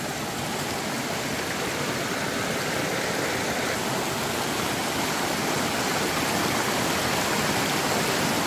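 Water rushes steadily through bamboo in a jungle, a dense, continuous close-up splashing flow that holds even throughout with no voices.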